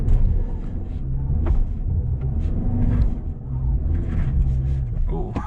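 A 2020 Toyota Highlander Hybrid strains off-road on slipping wheels with the gas pedal floored, giving a steady, close, low engine and drivetrain rumble that holds for the whole stretch.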